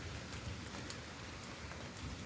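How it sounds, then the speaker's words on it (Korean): Heavy rain pours steadily outdoors, a dense, even hiss of drops with no pauses and no voices. "비가 또 빗방울이 굵어지고 있습니다"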